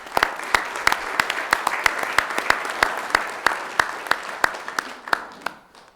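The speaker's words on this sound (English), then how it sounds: "And let's give him a round of applause." Audience at a city council meeting applauding a fire department employee, a loud, close round of clapping with sharp individual claps standing out over the steady patter, fading toward the end.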